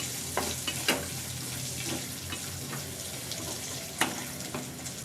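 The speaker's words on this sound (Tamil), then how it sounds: "இதில் கொஞ்சமாக கருவேப்பிலை சேர்த்துட்டு ஒரு 3 நிமிஷம் நல்லா வதக்கிக்கலாங்க" Ginger, green chillies and curry leaves sautéing in a pan, a steady close sizzle with scattered spoon scrapes and clicks, no voices.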